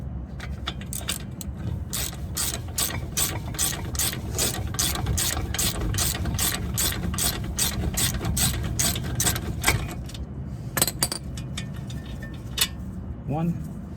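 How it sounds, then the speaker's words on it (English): Hand ratchet spinning out bolts on a Toyota Camry CV axle, a rapid run of sharp clicking strokes that pauses near the end for a few more clicks, with low background noise and faint speech. "Now let's get the bolts the rest of the way out."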